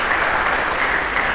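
Loud, dense applause from a church congregation, a steady wash of many hands clapping at once with no breaks, filling the space.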